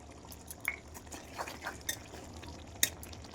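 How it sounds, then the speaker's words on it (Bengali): Mustard water goes into a pan of cooking flat beans and potatoes, heard as quiet liquid splashes and stirring with a few bright utensil clicks against the pan, close up and without speech. "এবার সর্ষে জলটা দিয়ে দেবো"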